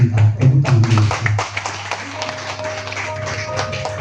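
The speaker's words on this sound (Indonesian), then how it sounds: "Tepuk tangan Yesus" Scattered hand claps from a gathering at a law office Christmas celebration, uneven and fairly close, fading into a steady hum with a faint tone.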